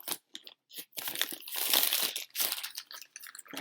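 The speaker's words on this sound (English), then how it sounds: "Not these plastic bags that don't rip when you tug on them." Thin plastic shopping bags being crumpled, tugged and stretched, a close crinkling rustle that comes in short bursts and then swells into a sustained crackle before breaking off again, with no talking.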